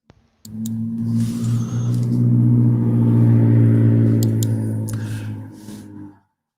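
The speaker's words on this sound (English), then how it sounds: "I live on a main strip, so that's why you're hearing all the traffic go by." A car on a main street drives past, its engine rumble swelling in over several seconds, peaking loudly up close, then fading away, with no talk over it.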